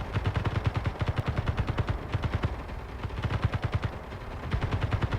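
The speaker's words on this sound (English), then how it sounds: "Luckily, the turret has ammo in it." Defensive turrets in Space Engineers fire at enemies in rapid, rhythmic bursts of automatic shots, steady and fairly faint, with short pauses between volleys.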